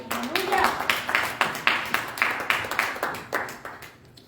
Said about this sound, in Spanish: Ponte de pie, un aplauso al Señor.